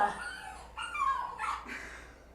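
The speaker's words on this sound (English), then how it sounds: "Third dog of the day is this big dog" A big dog in a photography studio gives several short whimpers and yips, close by and moderately loud, in a brief burst with no talking.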